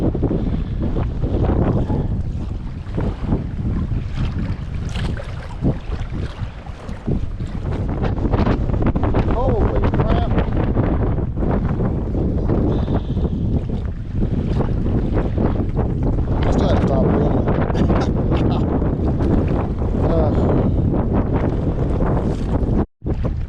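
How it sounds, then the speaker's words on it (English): Strong gusting wind buffets the microphone on a lake during December kayak trout fishing, a loud, continuous broadband roar with surging gusts and water slap throughout, briefly cutting out near the end. "this wind has become just about unmanageable"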